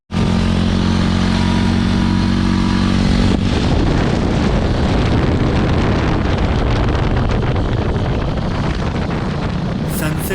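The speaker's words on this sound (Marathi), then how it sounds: "आणि आत्ता मी माझी TVSची अपाचे काढतोय" A TVS Apache motorcycle ridden toward a beach near Gokarna, a steady engine drone that is loud and close, buffeted by strong wind noise on the microphone, with the engine tone shifting after a few seconds.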